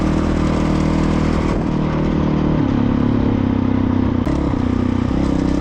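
A Honda CRF450RL dirt bike runs on mountain trails, its single-cylinder engine droning loud and close with shifting revs, gear changes and the clatter of the ride, with no voices.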